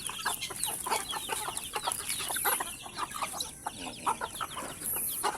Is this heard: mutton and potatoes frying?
no